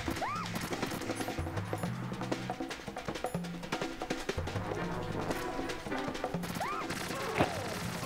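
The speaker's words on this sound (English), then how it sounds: "Why are they shooting her?" Rapid automatic gunfire in Metal Gear Solid 2, enemies shooting at Emma during an escort, dense bursts over game music with a few sharper impacts.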